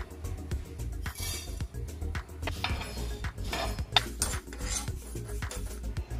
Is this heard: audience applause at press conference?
no